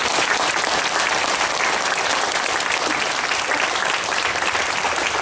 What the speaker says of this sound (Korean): 이분들한테 축하 박수를 드립니다.